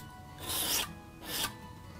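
A palette knife scrapes paint across canvas in two broad rasping strokes, the first longer and louder, the second shorter, close up with no voices.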